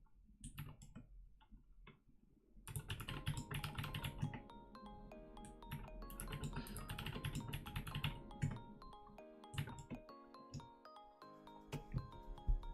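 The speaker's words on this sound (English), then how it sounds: "So maybe I'm typing it wrong." Typing on a computer keyboard, with quick clusters of light clicks that run steadily through the clip. A background bed of tonal sound plays underneath.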